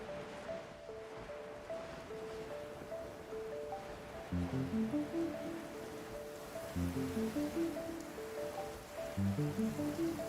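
Heavy rain falls in the video game Genshin Impact as a steady, soft hiss, with gentle background music and recurring low melodic phrases playing over it.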